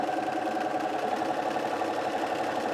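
A Bernina 350 sewing machine runs steadily while sewing decorative stitches, a close, even mechanical whir with rapid needle rhythm and no talking.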